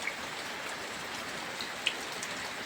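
Steady rain falls over a farm garden in the evening, a dense even hiss of drops with a few sharper drips standing out, with no voices.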